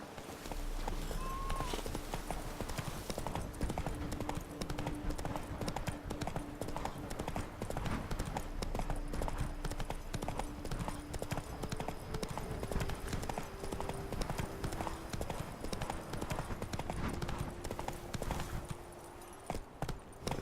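Horse hooves clip-clop in a steady, rapid rhythm in The Witcher 3: Blood and Wine, loud and continuous for the whole stretch with game music faint underneath.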